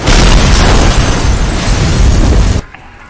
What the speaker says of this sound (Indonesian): Ada truk meledak di depan kantor